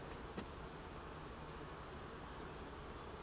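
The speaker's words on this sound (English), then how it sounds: "Now let's find some nurse bees." Honey bees buzz on a brood frame full of nurse bees, a steady, close, even hum of many insects that holds without break throughout.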